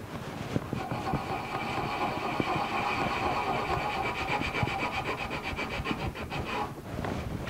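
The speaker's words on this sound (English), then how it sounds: "I'm just 80 grit gouge this stuff nice and smooth across the top." Coarse 80-grit sandpaper rubbed across the wooden top of a Martin 00-style acoustic guitar, a loud, continuous rasping scrape in quick back-and-forth strokes, up close and alone.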